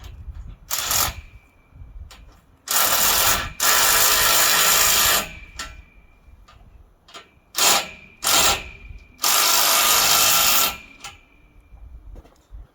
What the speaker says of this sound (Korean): 이럴 때 드릴을 가지고 사용하시면 좋아요.